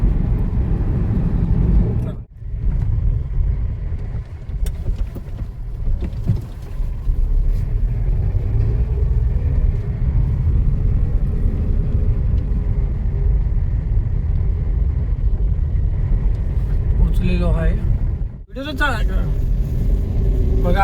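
A car being driven, heard from inside as a steady low engine and road rumble that runs almost unbroken, with people talking over it throughout.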